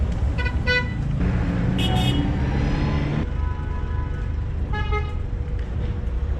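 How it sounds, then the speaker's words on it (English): Car horns toot repeatedly over steady street traffic, short honks from nearby vehicles cutting through the engine noise. "People honk a lot out here because they don't enjoy their life or something."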